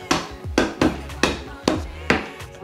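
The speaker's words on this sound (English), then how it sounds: "Y'all know I'm just hammering this down." A hammer knocks a part of an Ikea Alex drawer unit into place with five sharp, close, woody strikes in an uneven rhythm.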